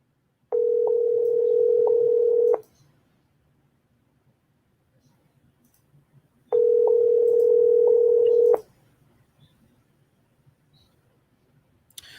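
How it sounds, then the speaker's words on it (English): Two long, steady ringback tones roll through an unanswered phone call, each lasting about two seconds and separated by a quiet gap of roughly four seconds, loud and clear with only faint background hum between them. "Looks like they're not going to pick up the phone."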